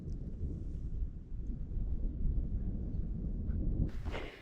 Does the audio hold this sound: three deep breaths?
no